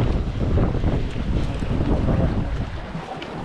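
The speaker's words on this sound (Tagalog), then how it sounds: "lumakas bigla yung hangin. Tapos bigla ang hangin" Strong wind on open water during a fishing trip, loud rushing gusts buffeting the microphone with a low rumble, sustained and close.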